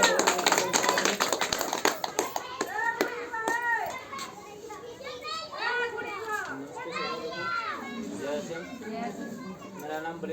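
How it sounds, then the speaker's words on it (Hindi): Audience members clap to welcome a guest, a burst of sharp handclaps up front that fades into lively chatter and children's voices. "और संजीत राम वर्मा जी के लिए बहुत बहुत तालियां लगाइए।"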